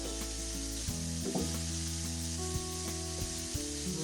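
Precooked protein sizzles and fries in a hot pan, a continuous crackling hiss with occasional stirring clatter, close and steady throughout with no talking.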